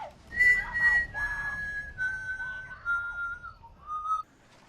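Someone whistles a slow, wavering tune of several sustained notes, fairly close, ending with a short final note before going quiet.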